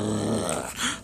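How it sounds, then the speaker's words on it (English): A dog growls low and close for about a second over a bacon treat in a Lego Dimensions game scene, rising slightly at the end. "Well, Pluto, since you've been a good boy, I'm gonna give you a bag of bacon treats."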